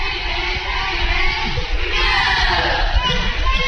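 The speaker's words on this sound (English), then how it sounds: "It's a nice crowd on hand here for the first game of the year" A basketball arena crowd murmurs and calls out at a women's college game, a steady, moderately loud din with occasional yells and a commentator speaking over it.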